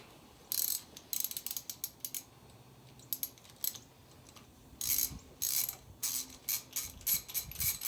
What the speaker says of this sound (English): Get these spark plugs out so its motor spins over easier.